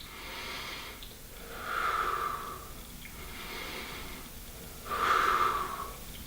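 Two slow, deep breaths, each drawn in and then let out in a long, airy exhale, close and fairly quiet during a band-assisted golf mobility stretch.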